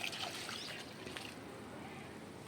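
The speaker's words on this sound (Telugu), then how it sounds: "వాటర్ చేయాలమ్మా ఇట్లా" Faint water trickles and splashes into the soil of a potted fig plant being watered, a short, soft, steady pour heard close by.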